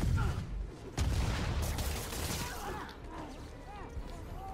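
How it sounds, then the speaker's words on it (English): Rockets fired by enemies in the video game Spider-Man on PS4, a dense stretch of booms and gunfire-like blasts with mechanical clatter, loud and continuous, with a voice talking over it. "where are these dudes shooting rockets from?"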